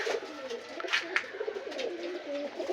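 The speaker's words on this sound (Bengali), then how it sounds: "খুবই সুন্দর সুন্দর কবুতর আছে আমাদের কাছে" Pigeons kept on a rooftop pigeon farm coo softly and continuously, several low overlapping calls close by, with faint wing and movement sounds and no talk.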